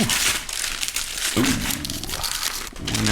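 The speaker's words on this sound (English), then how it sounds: "I like the wrapping paper." Gift wrapping paper torn and crinkled during a present exchange, a steady papery rustle and rip lasting the whole moment, close and loud, with brief voices mixed in.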